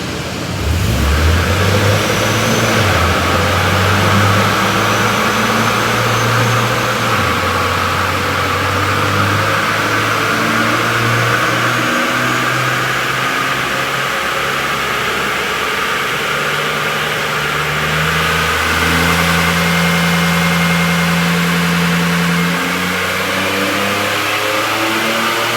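A supercharged Toyota N70 Hilux engine revs during a tune run, climbing and falling in repeated sweeps with a loud, close, continuous engine note and no talking over it.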